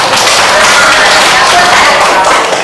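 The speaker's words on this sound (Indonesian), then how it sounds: "Ayo enggak ya, tepuk tangan" Classroom group applauding with steady, dense hand clapping that stays loud and continuous throughout.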